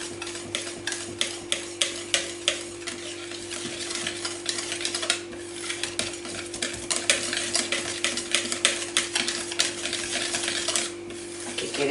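Flour being mixed into apple tart dough in a food processor, a steady motor hum with a rapid run of clicks and rattles from the bowl and blade, close and alone.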